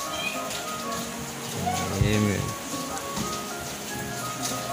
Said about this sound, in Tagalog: pasensya na ako sa audio natin kasi medyo may ulan sa labas